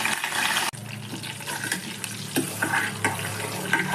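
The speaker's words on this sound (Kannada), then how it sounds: "ಸ್ವಲ್ಪ ಕರಿಬೇವು ಹಾಕ್ಕೊತಾ ಇದ್ದೀನಿ" Mustard seeds, cumin and curry leaves drop into hot oil for a brinjal curry, giving a steady close sizzle with a sharp burst at the start and small crackles and pops through the rest.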